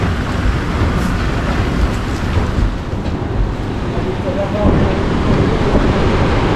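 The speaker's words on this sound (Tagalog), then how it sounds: "Malakas yung hangin." Strong wind roars steadily against the microphone, a dense low rumble that swells slightly toward the end.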